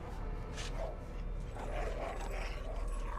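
Dogs bark in a scene from the 2009 film Watchmen, giving scattered gruff barks and yelps through a thick, rumbling film soundtrack.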